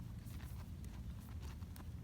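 Hooves of a barrel horse warming up in an arena before a run, heard as a steady low thudding beat of footfalls with a few sharper clops, fairly faint and continuous with no talk.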